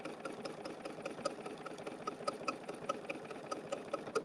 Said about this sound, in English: I'm doing everything double stitched just so that it has a more prominent look to it